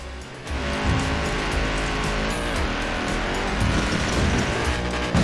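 An Audi races across flat open terrain in Forza Horizon 4, its engine droning loud and close with rising revs, shifting gears and bursts of tire squeal as it speeds along.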